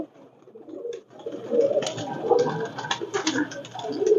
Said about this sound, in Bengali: এখানে প্রচুর পাকিস্তানি কবুতর আছে বিভিন্ন জাতের আছে